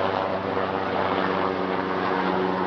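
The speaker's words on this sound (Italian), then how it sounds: "l'elicottero adesso che sovrasta il cielo" A helicopter flies overhead above the harbour garden at Lake Varese, giving a steady, moderately distant engine drone that holds evenly throughout with no voices.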